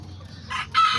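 Azteca chickens and a rooster cluck and crow close by in a short burst, a brief call rising midway and a louder, sustained crow-like cry at the end over a low steady hum.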